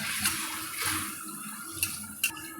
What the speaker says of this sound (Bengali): এই আমের জলটা আমি এর মধ্যে দিয়ে দেবো। আর আমি কিন্তু এখানে আরও জল অ্যাড করব।